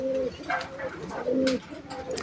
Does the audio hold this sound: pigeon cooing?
yes